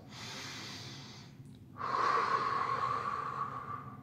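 Deep, slow breaths during a yoga pose: a long airy exhale, a short pause, then a fuller, louder inhale, close to the microphone with no talking.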